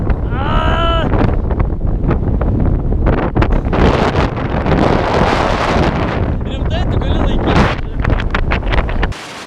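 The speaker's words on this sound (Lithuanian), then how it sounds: "prasidėjo labai stiprus vėjas ir vos galėjau pajudėti" Strong wind on Crete roars and pounds against the microphone throughout, loud and gusty, while people talk in short bursts over it.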